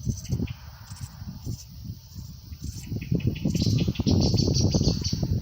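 A blackbird sings loud, fluting phrases over rustling and low noise, with short repeated high chirps in the background.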